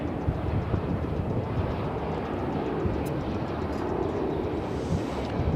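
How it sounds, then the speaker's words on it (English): An Airbus A321 airliner at DFW airport produces a steady, fairly loud broadband jet rumble, alone with no voices and a faint high chirp partway through. "Airbus A321."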